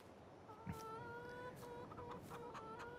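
Chickens in a Farming Simulator 22 poultry barn give soft, repeated clucks and tonal calls. The sound is faint and steady, with brief sharper bursts between the calls.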